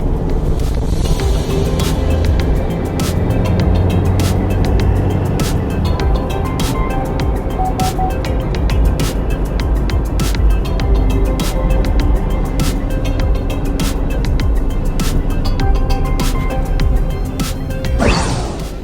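A 2018 Chevrolet Colorado 2.5 LTZ Z71 VGT pickup accelerates hard from 0 to 100, its engine a loud continuous roar from inside the cab, broken by regular sharp clicks and knocks and ending in a whooshing swell.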